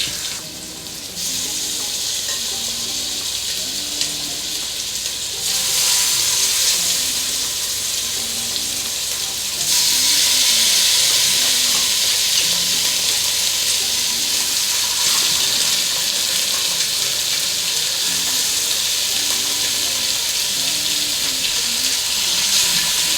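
Beef neck bones fry in extremely hot grease with a loud, continuous sizzle that swells stronger partway through and holds steady and close, with no voices.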